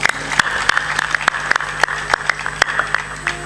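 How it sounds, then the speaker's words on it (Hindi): Audience clapping at a devotional religious gathering, a steady patter of many hands with sharp individual claps standing out, fairly close and continuous through the whole stretch with no talking. "ताली बजा दो।"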